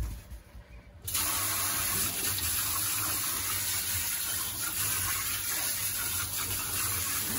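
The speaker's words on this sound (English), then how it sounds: "I'm just going to put some salt quite generously in my sink with warm water." Warm water gushes steadily from a tap into a kitchen sink, a loud continuous rushing that starts abruptly after a brief quiet moment and keeps running.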